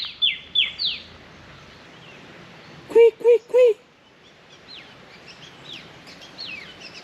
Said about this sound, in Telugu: ఇక్కడ కొన్ని పక్షులు సౌండ్ చేస్తున్నాయి చూడండి